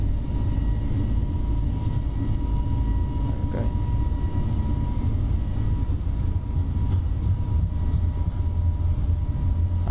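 An easyJet FlyByWire A32NX Airbus A320 on its take-off roll at Belfast in Microsoft Flight Simulator, a loud, steady, unbroken engine and runway rumble that fills the whole stretch without any talking.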